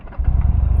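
A Buell XB9SX sport bike's Harley-derived V-twin runs close and loud, a short quiet moment giving way to a steady, lumpy low-frequency idle pulse with no voices.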